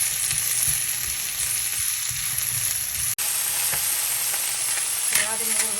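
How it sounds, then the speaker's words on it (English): Diced zucchini sautéing in a pan for a mushroom and veggie quiche, a steady loud sizzle and crackle with occasional stirring scrapes, continuous throughout and no talking. "Now I'm going to be adding the diced zucchini. So we're going to saute them for like"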